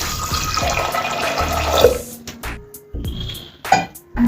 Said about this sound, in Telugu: ఇప్పుడు ఇందులో తగినన్ని వాటర్ వేసుకోవాలండి.